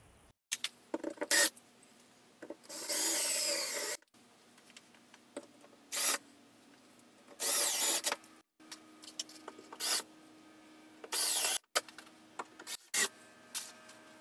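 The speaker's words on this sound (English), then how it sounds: "what I like to do is just kind of get the hole started with the bit, and then go ahead and run the anchor up into the ceiling" A drill bit bores into a ceiling in repeated short bursts, then an anchor is driven up into the hole. Loud whirring spurts of a second or so are separated by quiet pauses and small clicks and scrapes.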